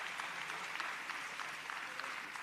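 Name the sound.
applause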